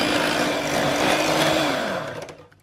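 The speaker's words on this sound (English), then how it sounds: "And give it another whisk." Vegan strawberry cheesecake mousse mixture being whisked, likely with an electric mixer: a loud, steady whirring drone that holds for about two seconds, then fades and cuts out. No one speaks.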